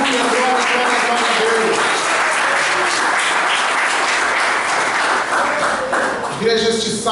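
A church congregation applauds during a worship service, sustained dense clapping filling the room at an even level, with voices and cries of praise mixed in.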